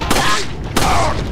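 Two loud, sharp gunshots ring out roughly 0.7 seconds apart in Resident Evil 4, each a broadband crack with a lingering tail.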